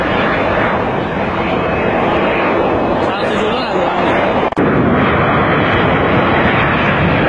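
A loud, roaring Boeing 727 jet lands without its nose gear, rumbling continuously close by, a dense wash of engine noise with a brief dip and a sharp thud partway through.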